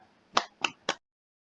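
Three sharp, separate hand claps in a classroom, quick and evenly spaced, as a class starts applauding a student group after a presentation. Then silence.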